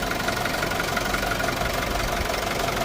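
A 2021 Isuzu D-Max diesel engine idles steadily up close, a continuous low rumble with a faint knocking texture, no voices over it.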